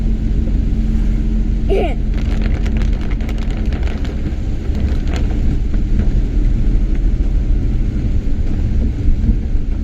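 A heavy tractor engine drones steadily nearby, a deep continuous rumble, with a brief voice heard early on.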